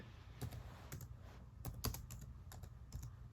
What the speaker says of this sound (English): I went on Google and I typed in Jam COVID.